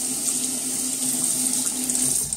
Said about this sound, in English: wet the face a little bit. I'm gonna do that with cold water.